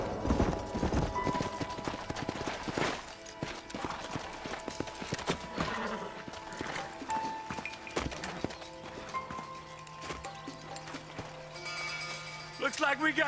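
Horse hooves clip-clop in the Red Dead video game, a brisk run of hoofbeats that slows over several seconds, with game voices talking over them and other effects between.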